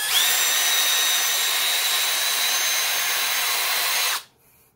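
A Milwaukee M12 Fuel second-generation 1/2-inch brushless drill whines steadily in first gear while backing out a long screw, running loud and close for about four seconds before stopping abruptly.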